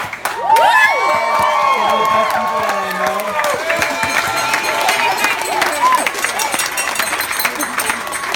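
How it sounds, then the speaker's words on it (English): Wedding reception guests applauding and cheering the wedding party, a loud swell of clapping and excited shouts from a crowd that stays busy and lively throughout. "Another round of applause for Andrew and Erin's wedding party."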